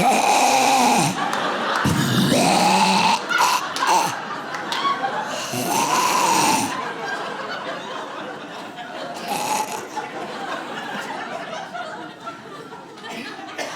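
A stand-up comedian imitates his partner's snoring with his voice on stage, loud exaggerated snore-like vocal bursts over the first seven seconds, with audience laughter and crowd noise running underneath and continuing afterward.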